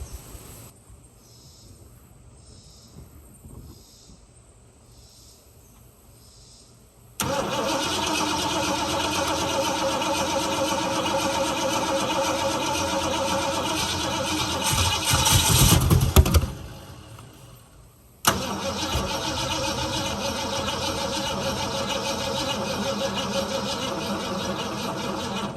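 A 1969 Mustang that sat for 15 years cranks, then catches and runs roughly with a steady loud idle, surges briefly, cuts out, and restarts into another sustained rough run.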